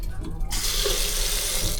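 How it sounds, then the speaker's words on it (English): A bathroom faucet in a Carnival Panorama standard balcony cabin is turned on, shifting from quiet to a steady, close, full rush of running water that continues to the end. "Let's check the faucet."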